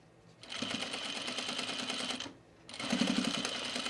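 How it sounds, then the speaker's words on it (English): A sewing machine runs in two steady bursts with a brief stop between, stitching down a folded turn-under on a men's utility jacket, its rapid mechanical whir loud and close. "I'm just going to stitch my turn under just to hold it, kind of like basting."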